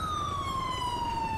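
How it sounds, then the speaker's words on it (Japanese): A police car siren in the GTA 5 game holds one long, loud, steady wailing tone that slides slowly downward across the whole stretch, with no voices over it. "パトカーが向こうから来てます"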